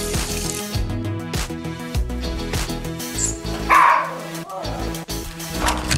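A dog barks repeatedly at a lizard, loud sharp barks and yips close by in an irregular series, with a voice briefly heard under them.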